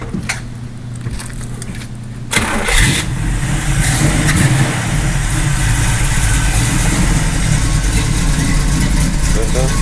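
A car engine cranks briefly, catches, and settles into a steady loud idle nearby, with a voice speaking faintly before it starts.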